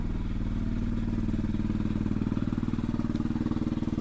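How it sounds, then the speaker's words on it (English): A vehicle engine runs roughly and sounds badly wrong, with a loud, steady, rattling low throb that keeps a clattering rhythm throughout. "Your engine makes that shitty noise."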